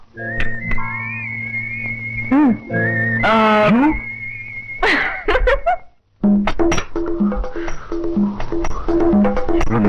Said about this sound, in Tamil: மாப்பிள்ள நீங்க விசில் அடிச்சுதான் ஆகணும்